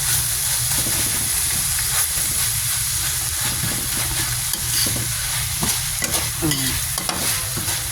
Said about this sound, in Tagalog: Kasi nga, nasa apoy siya, kumukulo siya.